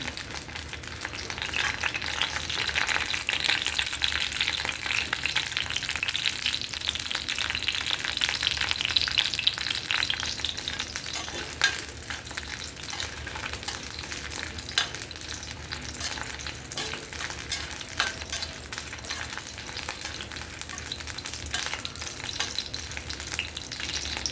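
Dried red chillies frying in hot oil in a pan for a coconut-tomato chutney, giving a dense, continuous crackling sizzle that stays loud and close throughout, with no voices.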